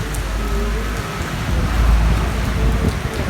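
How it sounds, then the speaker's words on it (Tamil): Heavy rain pours down outside a cinema after a film, a loud steady wash with a low rumble, no one talking. "நாங்கள் படம் முடித்து வெளியே வந்தால் மழை, செம்ம மழை."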